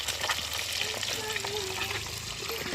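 Pieces of masala fish fry in hot oil, giving a dense, steady sizzle with faint stirring clinks, while a voice speaks quietly beneath.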